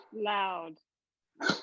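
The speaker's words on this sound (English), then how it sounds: "Hey, stop barking, please. Sorry about the dog." A dog's bark comes first as a single loud, drawn-out sound close by, then after a short silence a person starts speaking.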